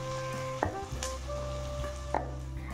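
Onion and green chili frying in hot oil with bay leaf and cumin, a steady close sizzle with a few clinks of a stirring spoon against the pan.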